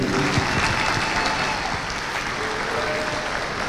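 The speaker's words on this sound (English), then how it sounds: "Yeah, go ahead and applaud for that." Crowd applause fills a gym at a women's college basketball game between the Lady Cards and Panola, a steady, dense wash of clapping that holds loud and even throughout without pause.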